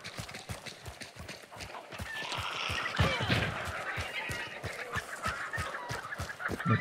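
Chickens clucking in the video game Hunt: Showdown, with a rapid run of footsteps pounding steadily throughout and fowl noises layered above, moderately loud and continuous.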